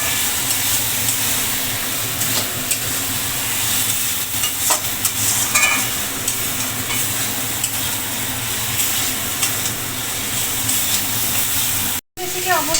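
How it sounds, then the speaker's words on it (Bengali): Spice paste for a Bengali village-style fish curry (macher jhol) sautéing in a pan: a continuous loud sizzling hiss with occasional spoon scrapes, broken by one brief cut of silence near the end. "ভালো মতন কষিয়ে নিচ্ছি।"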